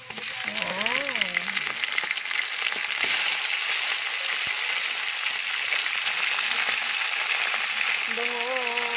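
Marinated chicken sautéing in a pan for Bicol adobong manok, giving a steady, close sizzle of hot oil that runs the whole time, with a voice talking over it at the start and again at the end.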